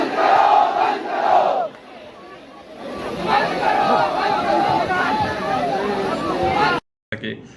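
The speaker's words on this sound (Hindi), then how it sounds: "भीड़ पूरा तितर बितर हो रही है" A large, scattering crowd at a political gathering in India, with loud shouting and a busy babble of many voices, a burst of cries early on, then continuous chatter before a brief cut near the end.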